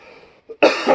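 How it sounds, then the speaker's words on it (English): A person with lung damage coughs: a faint, rough rasp, a brief pause and a small throat sound, then one loud, harsh cough close to the microphone. "This is just me coughing because I have lung damage."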